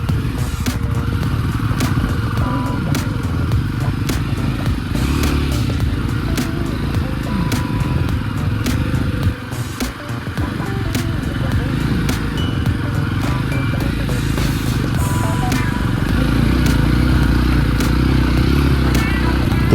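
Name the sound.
Jawa 42 motorcycle riding off-road on rocky trail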